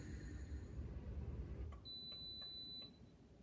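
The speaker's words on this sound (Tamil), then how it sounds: "அதுக்கப்புறமா நமக்கு ஒரு பீப் சவுண்டு கேட்கும்." Siemens dishwasher signalling that its cycle is complete, with one steady electronic beep tone lasting about a second. It sounds faint and thin over a low room hum that drops away just before the tone starts.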